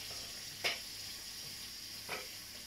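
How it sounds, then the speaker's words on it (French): Chicken livers and zucchini cook in a pan over lowered heat, giving a faint steady sizzle with two brief louder spatters. "Et on va écouter pour voir si ça va. Si ça ne cuit pas trop fort."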